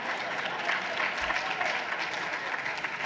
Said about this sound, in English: I think the women are telling us something with that applause